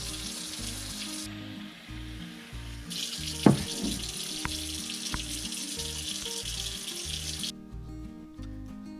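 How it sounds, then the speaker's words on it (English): Cold tap water streams into a bowl of grated potatoes with a continuous hissing splash, steady and close, broken by a few light knocks partway through before the flow stops near the end. "put the potatoes in a bowl and fill with cold water"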